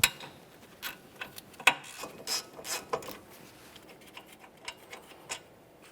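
A hand ratchet works a brake caliper bracket bolt on a 2012-2015 Honda Civic, giving quiet, irregular clicking strokes up close with no talk.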